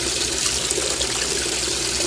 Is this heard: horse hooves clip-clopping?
no